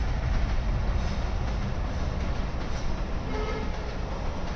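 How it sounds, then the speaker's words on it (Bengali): A train rumbles past very close by, a loud, steady wash of rolling wheels and rail noise that holds at full strength for the whole stretch with no voices over it. "ট্রেন এত কাছে"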